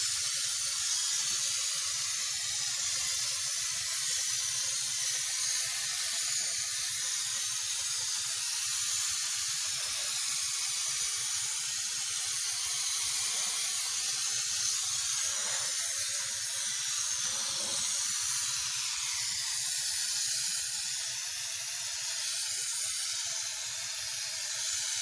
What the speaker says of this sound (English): we got done spraying 4 gallons of this very cheap over-the-counter